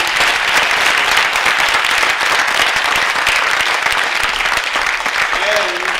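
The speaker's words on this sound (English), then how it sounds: "we give another round of applause for Dr." A lecture audience applauds Dr. Peterson, loud, dense, sustained clapping from a full room that holds steady for six seconds before easing slightly at the end.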